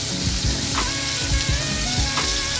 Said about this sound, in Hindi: टमाटर डालकर इसको अच्छी तरह हिलाएंगे